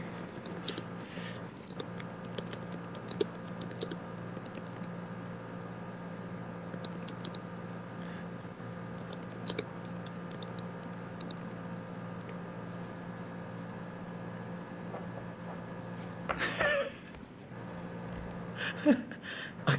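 Computer keyboard typing a message, soft scattered keystrokes over a steady background hum.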